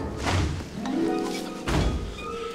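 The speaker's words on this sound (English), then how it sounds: "Did that sound like metal to you?" A single loud, hollow metallic thunk, like something striking metal, lands early, then a second heavy knock follows about a second later, each with a ringing decay, all without speech.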